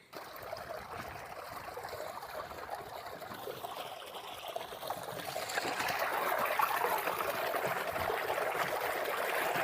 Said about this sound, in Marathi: आता विहिरीचं पाणी चांगलं मोटरीचं चालू आहे, त्याच्या खाली आपलं असं स्वच्छ चांगली धुवून घ्यायची